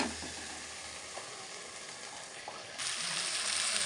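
A fried poppy seed mixture goes into a hot pan of oil for a sweet shukto-style dish, bringing a loud, close, continuous sizzle that swells sharply near the end, with no voices.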